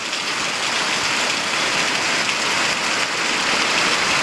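Rain pours steadily onto a garage, a dense, even hiss of drops drumming on the surface that holds at the same level throughout, with no voices.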